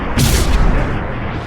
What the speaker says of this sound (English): Our forces have engaged. Taking heavy fire.